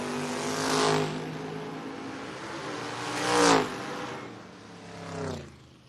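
Race cars at a drag racing event, three separate loud whooshing passes, each swelling and fading over about a second, with a steady engine drone between them.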